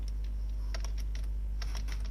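Keystrokes on a computer keyboard as a git command is typed, sparse clusters of crisp taps with short pauses between them over a constant low electrical hum.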